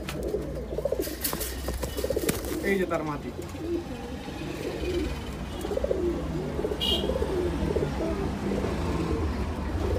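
Domestic pigeons, including high-flying Rajshahi Giribaj types, coo repeatedly in soft rolling phrases close by while someone talks over them.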